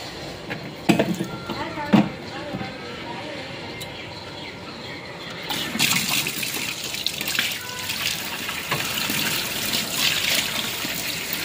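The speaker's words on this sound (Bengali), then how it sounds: "এই যে এটা এখান দিয়ে জল আসে।" Water runs from a tap into an emergency storage tank at home, a steady splashing flow that gets louder and fuller partway through, with a person talking over it.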